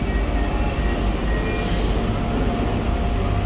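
Busy train station on the way into Paris at rush hour, with a steady, loud rumble of trains and station bustle throughout, no voices clearly present.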